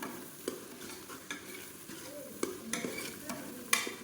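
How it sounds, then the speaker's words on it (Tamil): Spices sizzle softly in a pan for mutton biryani while a utensil stirs and scrapes, with occasional clinks and taps against the metal. "இதையும் சேர்த்து நல்லா வதக்கியாச்சு"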